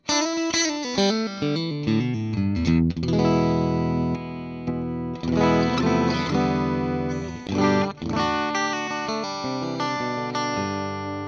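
Electric guitar, a PRS Chleo played through a clean channel, switching through in-between pickup positions: sustained chords and picked notes ringing continuously and fairly loud, with strums and brief pauses between phrases, no talking.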